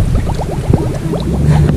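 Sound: water filling a plastic bottle

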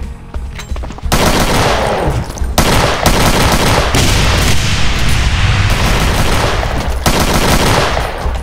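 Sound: minigun firing in video game Brutal Doom

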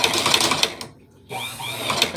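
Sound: hand crank cobbler sewing machine running

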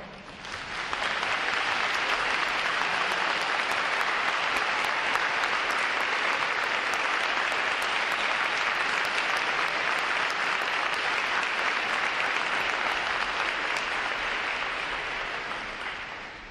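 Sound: audience applause for veterans at Navy recruit graduation

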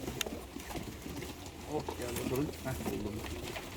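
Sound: blue çavuş pigeons cooing

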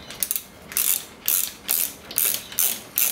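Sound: tightening screw on euro lock cylinder

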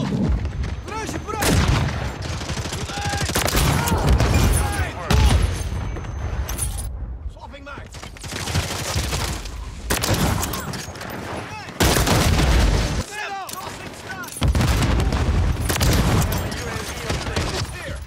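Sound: gunfire and explosions in Call of Duty: Modern Warfare video game

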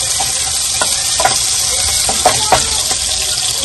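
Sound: chicken and carrots frying in a pan on full flame

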